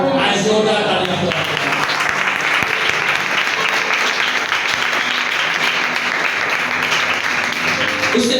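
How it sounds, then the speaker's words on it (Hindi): Loud, dense applause from a church congregation during a sermon, a steady wash of clapping that fills the clip without pause. "आज जोरदार तालियां।"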